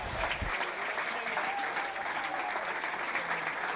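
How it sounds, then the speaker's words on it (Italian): Audience applause at a rapid fire pistol shooting final in Munich, steady dense clapping that fills the whole stretch at an even level, heard from a distance. "L'applauso dal grande campione del passato e il campioncino del futuro."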